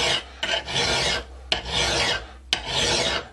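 Three long, harsh rasping strokes of a file along an axe edge, each starting with a sharp scrape and separated by brief gaps, close and loud with no talk.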